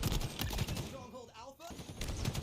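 Rapid gunfire from a Halo multiplayer match crackles in quick bursts at the start and end, with a short voice breaking in between volleys.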